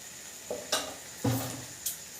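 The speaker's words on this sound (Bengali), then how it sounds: "মশলাটা আমাদের কষা হয়ে গেছে" Chili and turmeric powder spice mix fries for a kofta curry, with a faint sizzle under a few sharp scrapes and knocks of a spoon against the pan.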